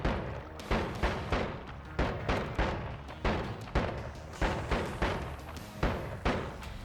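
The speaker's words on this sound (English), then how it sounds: "Not the most impressive digging in the world, but it'll get us there." Digging in the video game Noita comes as a run of sharp, punchy thumps repeating roughly every half second, each a short blast with a quick decay, steady and fairly loud.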